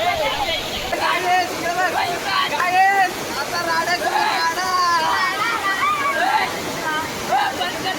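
A 150-foot waterfall at Subhedar crashes down in a loud, steady roar of pouring water, close up, with voices shouting and talking over it throughout.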